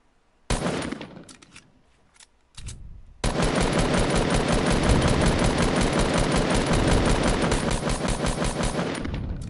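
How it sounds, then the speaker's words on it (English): Sustained automatic gunfire in the video game Fortnite, a few short bursts followed by a long, loud unbroken stream of rapid shots at close range. "Stop shooting at me"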